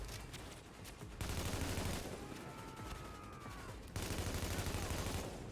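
Dense, sustained automatic gunfire in The Division game, a steady crackling fusillade running for several seconds with louder bursts near the start and end, no talking.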